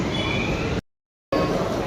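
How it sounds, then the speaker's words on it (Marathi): A Mumbai Metro Line 1 train pulls away from a station platform, a steady close rumble and rail hiss with faint high tonal whine, briefly cutting out midway before resuming. "तर डोअर बंद झाले. आता ट्रेन जाणार पुढे,"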